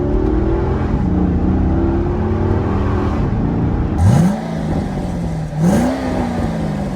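A roughly 400-horsepower sports car, a Corvette or Maserati, idles with a low, steady rumble, then revs sharply in two quick blips, loud and close.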